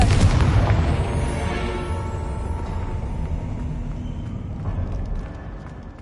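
Confringo blasting spell going off in the Hogwarts Legacy game, a loud deep boom at the start that rolls out into a long rumbling decay with crackling debris.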